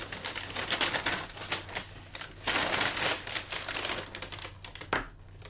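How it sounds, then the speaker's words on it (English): Plastic bag crinkling near a microphone during a senior bowling tournament final, a steady crackly rustle that swells and fades for several seconds over a low background hum. "Apologies for bag crinkling."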